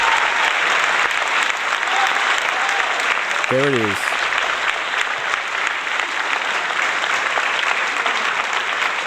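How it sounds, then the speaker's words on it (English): Studio audience applause during a live broadcast, loud continuous clapping filling the whole stretch while a presenter speaks briefly over it. "We have to have applause when we put that number up on the screen."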